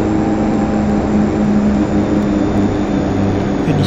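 Aircraft on final approach to TNCM runway 9 in the FSX flight simulator at night, a steady loud engine drone with low rumble and a constant hum that holds throughout, no voices.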